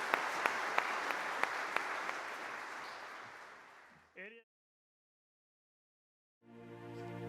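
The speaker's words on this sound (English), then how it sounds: "Let's give all of them a round of applause." A church congregation on Graduate Sunday applauds its graduates. The dense clapping starts full and fades out, followed by silence and then a voice.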